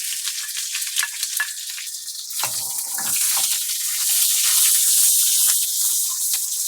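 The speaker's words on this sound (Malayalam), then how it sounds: "ഇപ്പോൾ ഉള്ളിയൊക്കെ മൂത്ത് വന്നു" Sliced onions and chillies fry in hot oil for a sadya-style sambar, giving a continuous close sizzle with crackles and a brief scrape of stirring midway.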